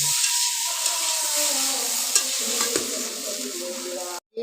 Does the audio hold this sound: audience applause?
no